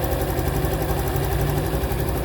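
A new Honda motorcycle engine idles steadily and quietly up close, a smooth continuous mid-to-low rumble with no talk over it.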